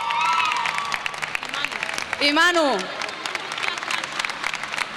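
A festival crowd applauds the coaches, a burst of clapping and cheering under someone speaking into an amplified microphone, with a short whistle-like sweep in the middle.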